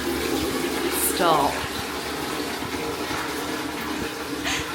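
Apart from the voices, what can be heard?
toilet flushing in Nice, France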